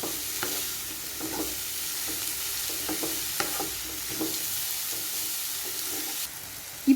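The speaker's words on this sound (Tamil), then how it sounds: "இந்த நெய்யிலேயே இந்த பூசணிக்காய் ஒரு 6லேருந்து 7 நிமிஷம் வரைக்கும் நல்லா வதங்கி வரணும்." Yellow pumpkin pieces sautéing in ghee in a pan, a steady close sizzling hiss with occasional soft scraping stirs, no voices.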